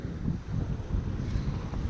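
Steady wind buffets the microphone on a rocky shore in Khasab, Oman, during shore fishing, a continuous low rumbling roar with no breaks and no talk.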